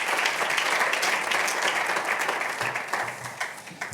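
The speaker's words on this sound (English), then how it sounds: "Let's give him a round of applause." Audience applause at the Space and Defense Industry Summit in Seville for the summit commissioner, a dense steady wash of many hands clapping throughout, fairly loud and unbroken, with no voices over it.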